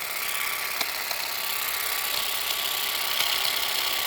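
A brush trimmer fitted with a different cutting head runs at high, steady revs while cutting weeds and woody stalks, a close, continuous buzzing drone with small ticks as it strikes the growth.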